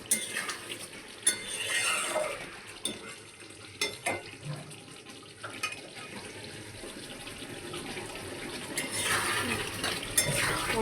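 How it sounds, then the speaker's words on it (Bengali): Spice masala for a fish and vegetable curry sizzles quietly in oil in a pan while a spoon scrapes and stirs it, with soft clinks of utensil against metal. "নেড়ে দিচ্ছি ভালো করে।"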